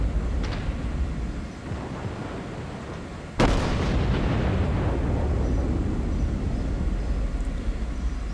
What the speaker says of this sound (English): putting shots towards the South Carolina now, and there's the Citadel hit